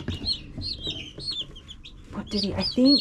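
Newly hatched baby chicks peep in rapid high chirps, several overlapping at once, close and moderately loud, with some soft clucking mixed in.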